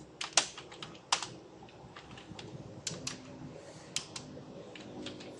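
Code being typed on a computer keyboard while building a register and login form in MVC: irregular crisp key clicks with a few louder strikes, close and clear, no talking.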